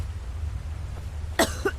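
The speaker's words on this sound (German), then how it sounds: "der Husten tönt aber auch ganz schlecht." A single short, harsh cough from a character in the game Skyrim, near the end of an otherwise quiet stretch with low background hum.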